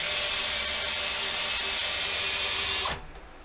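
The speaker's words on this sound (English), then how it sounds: "But the old drill works great." An old electric drill driving a Rose Lienhard lathe table up and down gives a steady, loud whine that runs continuously and then cuts off, winding down at the end.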